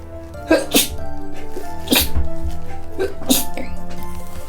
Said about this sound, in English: Also, I had to sneeze.